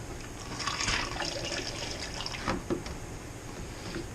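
Water runs and splashes steadily into a fermenter while a Merlot wine kit is being made, a continuous moderately loud pour with a few brief bumps and no talking.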